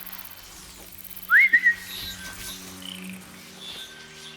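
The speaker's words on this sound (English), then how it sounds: "I did not mean to whistle him over, but it'll do." A short rising whistle sounds in the Horizon Zero Dawn video game, a quick upward swoop followed by a couple of brief chirps, clear and fairly close over a low ambient hum with no talking.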